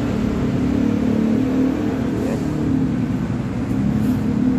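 A repaired and cleaned Carrier 7.5-ton air conditioning unit runs with a loud, steady broadband drone and whir, unchanging throughout and close by.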